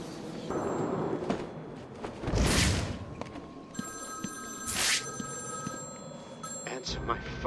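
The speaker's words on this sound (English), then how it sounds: "Answer my phone and answer it quick, Batman." A telephone rings repeatedly in Batman: Arkham City on PC during the Cold Call Killer side mission, its tones layered over dense game ambience with occasional thuds.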